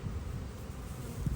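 Italian honey bees buzzing around newly set-up hives, a dense, low, continuous hum from many insects close by, with no voices.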